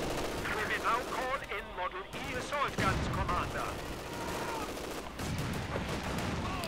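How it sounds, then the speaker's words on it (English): Battle sounds from the strategy game Company of Heroes 2, with grenade blasts and rattling gunfire overlapping in a dense, continuous barrage while a commentator talks over it. "That's definitely a lot of grenades being exchanged."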